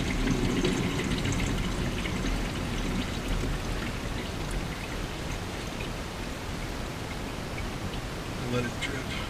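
Engine oil drips and trickles from the oil filter of a 2017-2019 Honda CR-V 1.5T into a drain pan, a steady broadband patter like light rain that runs close and continuous, with a few faint knocks.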